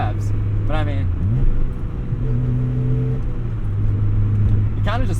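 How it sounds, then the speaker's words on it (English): A 1991 Mazda Miata's engine revs up and drops quickly between gear shifts, with rising and falling engine tones and a brief pause as the gear changes, heard from inside the car over steady road noise. "this thing effortlessly shifts into gear, and I'm surprised by how fast the revs drop on it."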